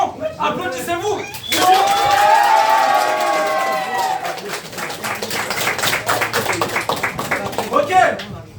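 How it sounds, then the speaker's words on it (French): Beyblade tournament participants burst into loud applause, clapping and cheering as a crowd for several seconds, with a voice carrying over the noise at the start. "Applaudissez-vous."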